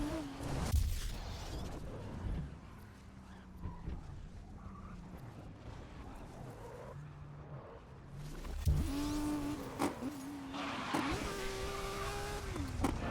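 A race car engine in the racing video game Grid 2019 on PS4 Pro drones and revs up and down through gear changes, fairly quiet overall, with a louder, higher-pitched acceleration and brief tire noise near the end.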